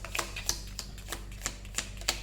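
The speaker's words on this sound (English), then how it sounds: "I shuffle like a little bit at a time because they're way too big." Oversized tarot cards are shuffled a little at a time, giving soft irregular taps and riffling clicks, quiet and close against a faint background hum.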